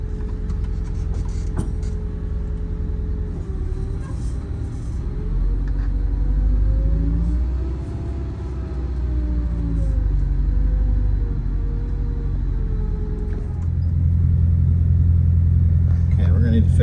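A bus with a low coolant gauge and low oil pressure rolls down a hill, its engine giving a steady loud rumble and drone that rises slightly, with people talking in the cab over it.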